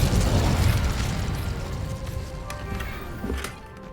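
A fire spell bursts with a loud booming explosion in the Hogwarts Legacy game on Xbox Series X, followed by a crackling, rumbling tail that gradually fades with a small pop near the end.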